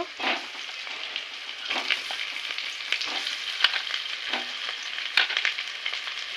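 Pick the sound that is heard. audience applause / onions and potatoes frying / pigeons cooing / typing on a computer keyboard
onions and potatoes frying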